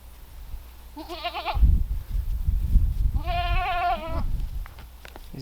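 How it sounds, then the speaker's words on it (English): Breeding-season goats on a farm bleat twice, each a loud wavering call close by, with rustling and handling noise between and under them. "These goats are persistent."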